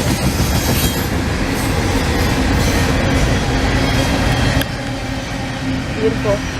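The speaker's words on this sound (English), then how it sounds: "That's Q170 intermodals and a juice train." A freight train of intermodal cars with a juice train passes close by in Folkston, a loud continuous roar of wheels and rattling cars that eases slightly near the end.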